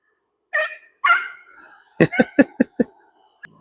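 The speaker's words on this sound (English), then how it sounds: "sounds like Ruby's on to a rabbit." Dogs bark close by while chasing a rabbit, two yelps first, then a rapid run of five sharp barks, followed by a faint whimper.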